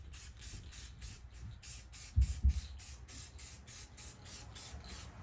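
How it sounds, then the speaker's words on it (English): Duplicolor clear coat sprays from an aerosol can onto a car headlight in cool weather, a series of short, evenly spaced hissing bursts with brief pauses between passes, close and steady, with no talking. "it's not technically the ideal temperature to spray paint, but we're gonna go ahead and do it anyways"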